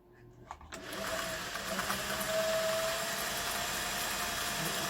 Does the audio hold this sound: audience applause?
no